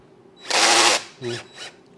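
A power drill spins a 1964 Triumph TR4 engine to pump oil, a loud half-second whir followed by two shorter bursts against a quiet garage background.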